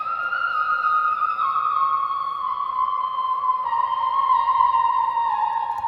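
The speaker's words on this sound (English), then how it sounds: "high-pitched, floating kind of vocal" A high, floating synthetic-sounding vocal tone holds long sustained notes, sliding slowly between pitches, smooth and processed with no words.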